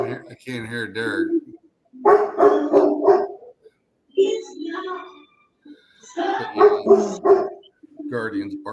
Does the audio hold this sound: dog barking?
yes